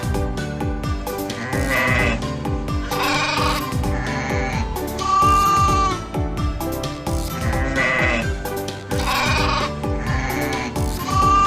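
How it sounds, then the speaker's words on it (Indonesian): Sheep bleating loudly and repeatedly, a string of wavering, overlapping bleats filling the whole stretch with no voices. "Domba. Sheep."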